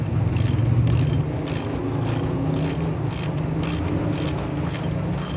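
A wrench tightens the spindle nut on a Mitsubishi L300 wheel bearing, giving a steady run of close, rhythmic ratcheting clicks at an even pace throughout.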